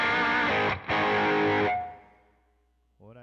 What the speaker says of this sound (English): let's go to stereo distortion. I'm gonna try the Tima.